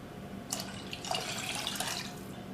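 Marsala wine poured into a pot already holding chicken broth for a turkey rollade, heard as a steady close splashing trickle lasting about a second and a half over low kitchen hum, with no talking.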